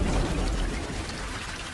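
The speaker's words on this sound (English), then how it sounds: "The annual monsoon is sweeping up from the south." Heavy monsoon rain pours down steadily in India's Ranthambore with a dense hiss and a low rumbling underneath, loud and continuous.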